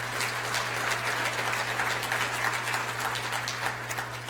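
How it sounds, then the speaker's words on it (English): An audience at a district address claps in a steady, even wash that sits fairly soft against a constant low hum, with no voices over it. "One more round of applause for them."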